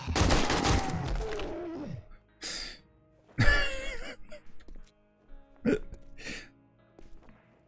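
Bursts of rapid gunfire crackle in short volleys, separated by pauses, with a few isolated shots and clatter between them, in the video game 7 Days to Die.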